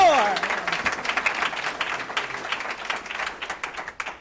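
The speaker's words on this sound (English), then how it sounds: "Let's have again another brief round of applause so these winners can leave and make it to their concert." Audience applause at a school board meeting honoring scholarship winners, a dense spread of clapping from many hands that fades slightly toward the end, with a voice briefly heard at the start.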